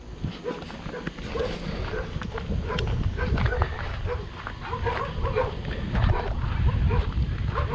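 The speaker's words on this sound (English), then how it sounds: "Our neighbor's got barking dogs." Three dogs bark repeatedly from a neighboring campsite at a campground, a steady run of yips and woofs at moderate distance, with a person talking over parts of it.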